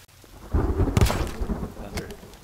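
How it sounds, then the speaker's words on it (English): Thunder during rain in The Forest video game, a rumbling crack swelling after half a second with a sharp burst near one second, then rolling and fading under steady rainfall. "Thunder."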